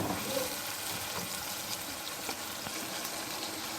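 Potatoes go into hot oil in a pan for aloo matar gobi sabzi, giving a broad, steady sizzle and crackle at close range, with faint stirring clinks mixed in.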